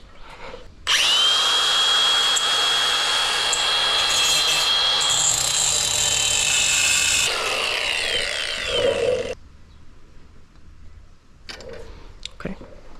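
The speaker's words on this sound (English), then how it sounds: "So we're just gonna use our cutoff wheel here." A cutoff wheel slices through an old chain tensioner on a 72V Razor Indian electric motorbike build, a loud shrill grinding screech lasting about eight seconds before it winds down, followed by quieter handling noises.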